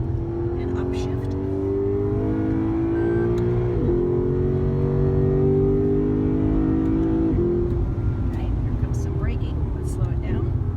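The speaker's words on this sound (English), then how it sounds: "So as we go down the straightaway, we'll accelerate and upshift." A car with paddle shifters accelerates steadily down a straightaway with rising pitch, briefly dropping at each of two gear upshifts, loud and close throughout.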